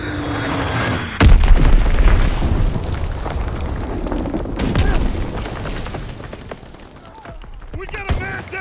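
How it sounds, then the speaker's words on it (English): Enemy artillery shells exploding during a Call of Duty WWII team deathmatch on Pointe du Hoc: a loud booming blast, then rumbling crashes, scattered gunfire and sharp pops, with a later smaller blast near the end. "Incoming enemy artillery."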